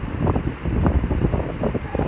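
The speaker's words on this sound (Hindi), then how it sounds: "और हवा इतनी तेज़ चल रही है" Strong wind buffets a microphone on a hilltop fort in Kashmir, producing rough, gusty low rumbling that surges and dips continuously and sounds loud and close, with no talking.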